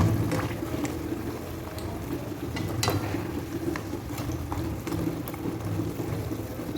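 Wheat snacks deep-frying slowly in oil, a soft continuous bubbling sizzle with scattered small pops and crackles, steady and close, no talk.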